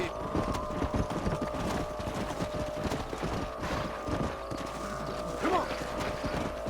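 Video-game horse hooves clatter in an ongoing rhythmic gallop of close, repeated footfalls, with someone speaking briefly over them.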